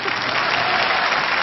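Theatre audience applauding, a dense, loud wash of clapping hands that holds steady for the whole brief moment.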